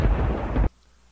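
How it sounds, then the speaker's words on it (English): Thunder sound effect: a loud, close, rumbling crash that roars for over half a second and then cuts off abruptly into near silence. "I think we should give them some lightning for this."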